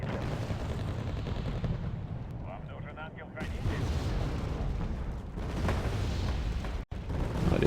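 Dense rumbling battle noise of artillery fire and blasts in the war strategy game Wargame AirLand Battle, a loud continuous barrage with booming impacts throughout and a brief dip near the end.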